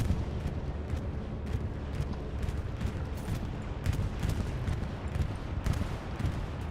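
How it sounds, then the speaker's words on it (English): Bombs from a bombing run in the WWII game Hell Let Loose fall across a battlefield, a dense, steady rumble of blasts and crackling impacts that keeps going without a break, with no clear speech. "Here comes the bombing run."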